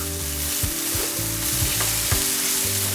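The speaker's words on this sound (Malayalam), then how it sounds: "ഈ തക്കാളിയും കൂടെ ഒന്ന് ചെറുതായിട്ടൊന്ന് വഴറ്റിലെടുക്കുക." Tomatoes sauté in a pan for chickpea curry with a loud, steady sizzle close by, while a utensil stirs and scrapes with repeated thuds, and no one speaks.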